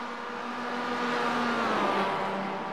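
Mazda MX-5 race car at Belle Isle passing by, a steady engine drone swelling and fading slightly as it goes by at moderate distance.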